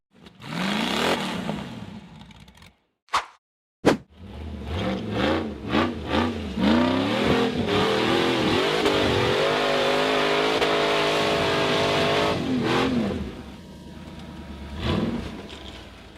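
An off-road buggy engine revs hard and loud while climbing a steep slope, throttle held down in long surging roars with a couple of brief cuts near the start, then easing off toward the end.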